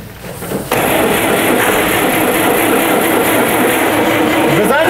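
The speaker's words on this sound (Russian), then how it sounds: "Люд, зажигание включи" A broken-down GAZ-69 engine is cranked on the ignition, bursting abruptly into a loud, steady mechanical churn that runs close and unbroken to the end.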